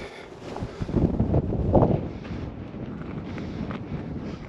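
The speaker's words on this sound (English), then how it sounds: "It's quite windy, so I'm trying to block the mic." Strong wind gusts buffet a partly shielded microphone near a snowy Cairngorms summit at about 3,050 feet, a rumbling roar that peaks early and then settles into a steadier blustery rush.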